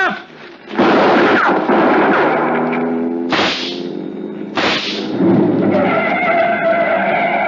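Several loud gunshots ring out in an old detective radio drama, two sharp blasts standing out among tense shouting voices and background sound effects.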